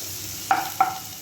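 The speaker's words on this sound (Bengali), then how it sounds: "সেটাকে একটু লাল লাল করে আগে ভেজে নেব।" Grated onion, ginger and garlic fry in a pan with a faint sizzle, and three brief scraping stirs sound close by.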